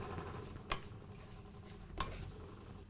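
Soya chunks stirred in a hot pan for pulao, a faint low sizzle with two sharp clicks of a utensil against the pan, no talking.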